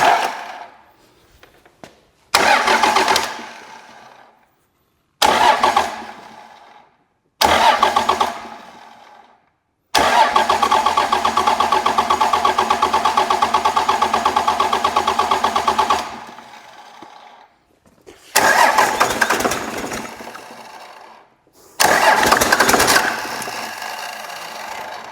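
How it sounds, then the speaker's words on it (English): A Cummins diesel swapped into a 1967 Ford F-250 cranks in several short loud bursts separated by silence, then one long sustained cranking run of about six seconds, followed by two more brief starter attempts, all close and with no talking. "So as soon as we hit this, that the engine will turn over"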